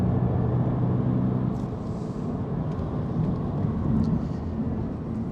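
A new Toyota GR86 on the move gives a steady, deep engine rumble with road noise, constant and fairly close throughout, with no voices.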